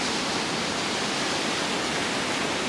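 A waterfall pours as a dense, steady roar of rushing water, loud and unbroken, with no voices.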